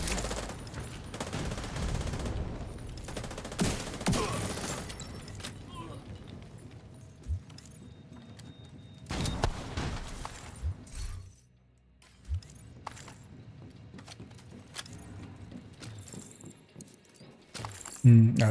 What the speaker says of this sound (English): No, that's grenades actually